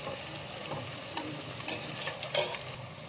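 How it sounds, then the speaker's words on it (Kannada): Onion frying in oil in a pan, a close, steady sizzle broken by a few sharp stirring scrapes, the loudest toward the end, with no voices. "ಗೋಲ್ಡನ್ ಬ್ರೌನ್ ಬರೋವರೆಗೂ ಫ್ರೈ ಮಾಡ್ಕೊಳ್ಳಿ ಆನಿಯನ್."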